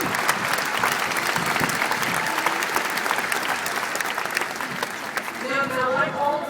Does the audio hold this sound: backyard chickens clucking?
no